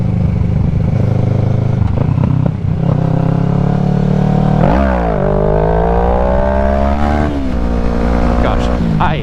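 A motorcycle engine roars loud and close as the rider pulls a low wheelie over dirt, pitch sweeping up sharply midway and holding high with rough revs, under a talking voice.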